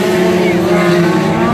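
Light-category race cars roaring past on the Jacaraípe dirt track in a 2019 race, a loud, steady engine drone with a rising and falling pitch, close by, with a commentator talking over it.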